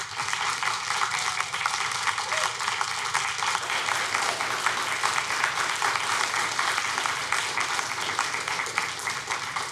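Sustained applause from an audience at a city council meeting, steady dense clapping filling the room at a moderate distance, with no clear talk over it.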